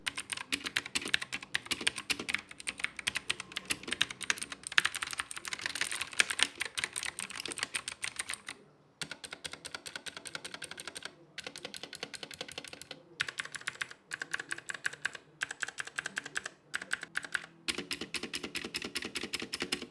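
Rapoo V500 Pro mechanical keyboard with blue switches being typed on, a dense, steady stream of crisp, clicky keystrokes up close, with a few brief pauses between bursts and no talking.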